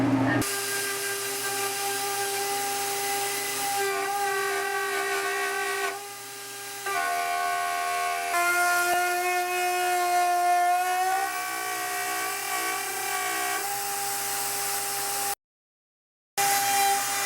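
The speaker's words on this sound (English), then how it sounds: "I'm gonna cut this long straight part with the big router with the 1/2 inch bit" A big router with a 1/2 inch bit cuts teak for a fiberglass anchor box top, a loud high-pitched whine that holds steady, dips and shifts pitch as it bites, then cuts off abruptly near the end.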